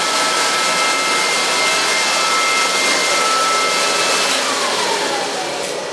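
A stove burning waste oil roars with a loud, steady, close rushing blast like a forced-air burner, unbroken and even from start to finish.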